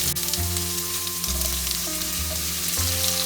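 Onion sizzles in hot oil with a dried red chili and panch phoron, a steady close frying hiss with low bubbling that swells in a few surges, no voices.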